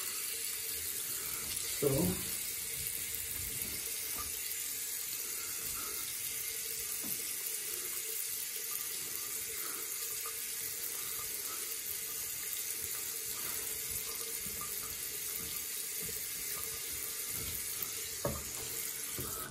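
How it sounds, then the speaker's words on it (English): Tap water running steadily into a sink during a shave, a continuous close hiss with a few faint knocks and splashes, a voice speaking briefly near the start. "apologies for having the water running too much in this video"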